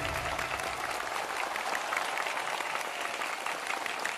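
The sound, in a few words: audience applause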